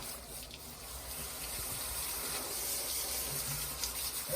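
A hose spraying water over a John Deere engine makes a steady, loud, close rushing hiss that holds without a break.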